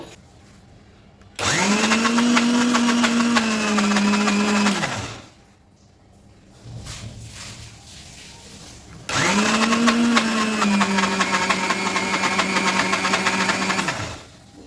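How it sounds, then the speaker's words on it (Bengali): An electric blender grinds soaked lentils and rice in two long, loud bursts with a steady motor whine. Each burst runs several seconds, separated by a quieter pause with a softer rattle. "এটাকে আমি এখন ব্লেন্ডারে করে ব্লেন্ড করব"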